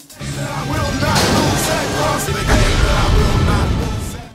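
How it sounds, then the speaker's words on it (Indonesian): A loud explosion from a boat crashing into a police car: a sustained, roaring blast with crashing debris that rumbles for several seconds, swelling again midway through. "Alhasil, sebuah ledakan pun terjadi."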